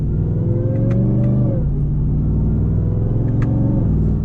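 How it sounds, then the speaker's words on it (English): A stock RAM TRX pickup with its supercharged Hellcat engine pulls hard from inside the cab, a loud steady engine drone with a rising whine that drops as a gear shifts, then climbs again. "You instantly hear the supercharger."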